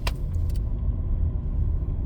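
A car rumbles steadily as it starts to drive, a loud low engine and road drone filling the cabin after a brief jangle of keys at the start.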